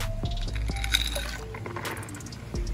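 Salt is poured into water to make brackish water, giving soft liquid splashes and sloshing with a few light clinks from the container, close by and with no talking.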